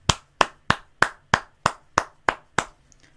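Nine sharp, evenly spaced hand claps ring out close and loud in a steady rhythm, followed by a brief quiet tail.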